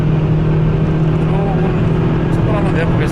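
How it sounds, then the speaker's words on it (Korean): Hyundai Veloster N Performance Package, a 275-horsepower hatchback, with its exhaust droning steadily inside a tunnel, a loud continuous engine and road roar from the cabin, with a voice talking over it. "터널 안에서 배기음도 한번 들어보시죠."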